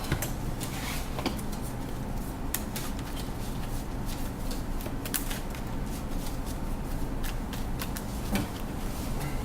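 Magic the Gathering cards being shuffled during a Legacy match, a steady run of soft papery riffling and ticking clicks that lasts throughout, fairly close and alone without any talk.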